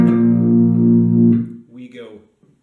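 A distorted electric guitar power chord rings out loudly and sustains for over a second, played for a Treat You Better chorus strumming pattern, then fades into a short, softer scrape as the fretting hand slides off.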